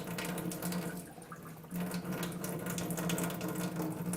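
Water runs from an electric water machine dispenser into a container in a steady, continuous stream, close by and unbroken, with no voices.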